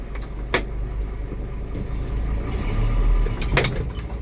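A car out on a test drive pulls away and accelerates, its engine rumbling steadily and climbing slightly in loudness, with a couple of brief clicks or knocks from inside the cabin; no talking.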